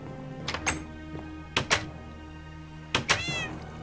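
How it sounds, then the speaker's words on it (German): Cats meow in Minecraft, with three pairs of short, clear meows spaced a second or so apart, close and distinct over quiet game background. "das ist doch nicht normal mit diesen Katzen manchmal"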